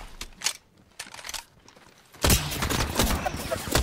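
Enemy gunfire in the battle royale game Apex Legends: a few sparse, sharp reports early on, then a loud, sustained burst of rapid shots filling the second half, close and dense.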